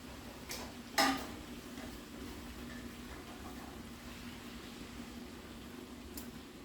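A single sharp clatter as shrimp drop into a new metal pan with garlic, followed by a steady low hiss and hum of cooking, with a faint tick near the end.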